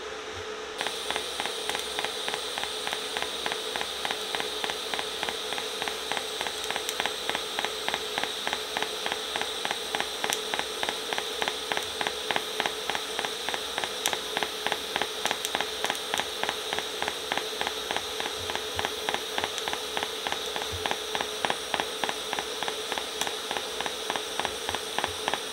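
A TIG welder tacking metal pieces together in a shed, giving a steady continuous buzzing hiss with a fast rhythmic pulsing texture that runs unbroken and fairly loud throughout.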